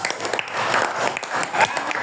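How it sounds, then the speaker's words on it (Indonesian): A classroom of students claps for a student group that has just presented, a short, moderately loud patter of hands with some scattered sounds mixed in. "Kita beri tepuk tangan lagi untuk kelompok 1."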